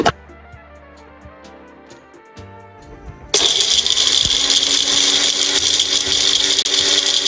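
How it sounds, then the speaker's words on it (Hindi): After a few soft clinks and music, a mixer grinder suddenly switches on and roars loudly and steadily, grinding spices fine with a harsh whirring buzz. "अब सभी चीजों को मिक्सी से महीन पीस लेते हैं।"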